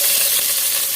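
Chopped onion and a little whole cumin sizzle steadily in hot oil, a close, continuous hissing fry with no voices over it.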